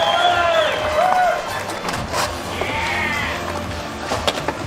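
A live crowd at a Dew Tour adaptive park skateboarding contest cheers and whoops for a local skater, with sustained noisy applause and shouts mixed with an announcer's voice over the PA.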